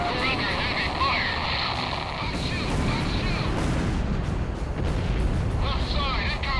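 Heavy artillery fire during the Bartolomeo Fortress mission in the Ace Combat 6 video game, a continuous rumbling barrage of booms and blasts with voices talking over it.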